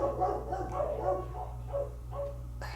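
A pet dog barking and whining in a home, a string of short nasal yaps and whimpers repeating over a steady low hum, moderately near and without speech.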